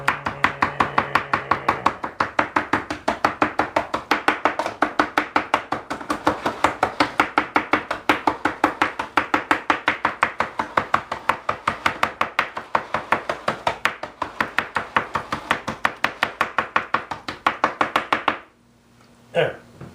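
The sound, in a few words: knife chopping ravioli in foil pan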